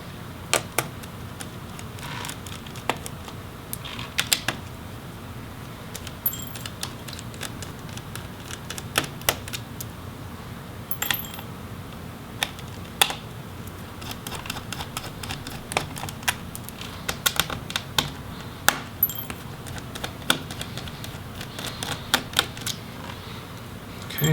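Small screws are backed out of the battery of an HP Pavilion Gaming 15 dk0055nr laptop with a steady scatter of light, close clicks and ticks over a quiet background hum.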